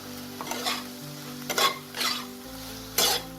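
Manchow soup ingredients seasoned with soy sauce and pepper being stirred in a hot pan, a few quick scraping strokes and soft sizzles in short bursts over faint background music.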